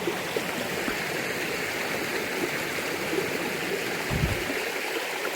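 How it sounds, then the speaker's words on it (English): A river stream in the Scottish Highlands flows continuously nearby, a steady broadband rush with a soft low thump near the end and no talking. "Got lovely water here."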